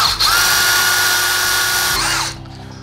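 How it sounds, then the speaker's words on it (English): A power drill fitted with a steel bit runs steadily into a steel lintel, a loud, close, high whine held for about two seconds before it abruptly winds down and stops. "drilling into steel lintels."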